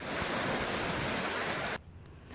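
Floodwater rushes through a river at Najapur village in Vadiya, a dense, loud roar that fills the clip before cutting away abruptly near the end to quieter background.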